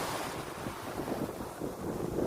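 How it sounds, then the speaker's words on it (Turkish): Waves of a choppy sea wash against the shore at Yeşilköy beach in a continuous rushing roar, mixed with gusty wind buffeting the microphone. "Evet görüyorsunuz deniz dalgalı."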